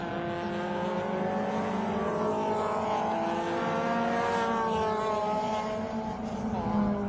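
Race cars at the 2023 Sydney Masterblast circuit meeting scream past with rising, layered engine whines that climb and overlap as they accelerate, loud and continuous.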